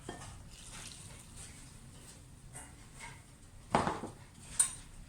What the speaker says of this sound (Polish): Wszystko razem mieszamy.